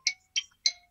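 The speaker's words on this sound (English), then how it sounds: "Sorry, that's my phone going." Three short, bright chiming pings from a mobile phone notification, evenly spaced about a third of a second apart, clear and close with no talk.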